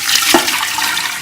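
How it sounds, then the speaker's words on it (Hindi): Water poured from a glass into a pressure cooker holding red lentils (masoor dal), a steady splashing gush that runs for the whole moment, close and fairly loud. "इसके अंदर हम ये 2 गिलास पानी की डाल देंगे।"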